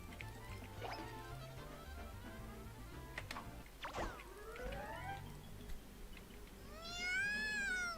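A screaming cat character in the Tom and Jerry Chase mobile game lets out a rising, wavering shriek near the end, following busy game effects, clanks and mechanical clatter.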